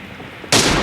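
Gunfire from an M24 rifle in a shooting video game: a sudden loud, sharp blast that cuts in after a quiet moment and rings out, close and alone without speech.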